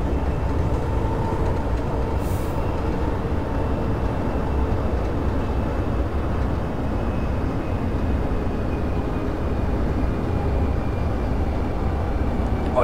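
A regional RE9 train in Train Simulator 2015 running between Berlin airport and the main station, a steady, loud rumbling drone of wheels and motor that continues evenly without a break.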